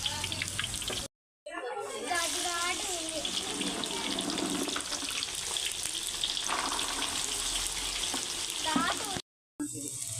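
Okra frying in a pan gives a loud, continuous sizzle with stirring and scraping throughout, broken by two short cuts to silence.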